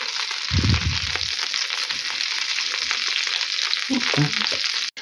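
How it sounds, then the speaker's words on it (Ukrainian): Batter-coated cutlets sizzle and crackle steadily in a frying pan, a bright continuous hiss with a couple of low thuds and scraping knocks from turning them. "вони собі гарненько підсмажуються"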